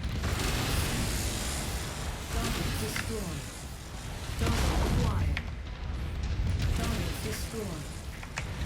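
Rapid weapon fire and heavy booms in a MechWarrior 5 battle against a mech, with dense overlapping impacts and rumbling explosions throughout, loud and continuous under a busy game soundscape.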